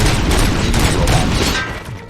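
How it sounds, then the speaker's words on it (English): Rapid bursts of gunfire in the Robocop: Rogue City video game, a dense, loud fusillade of overlapping shots and booms that rolls on continuously before tapering slightly at the end. "Gunshots? What's going on?"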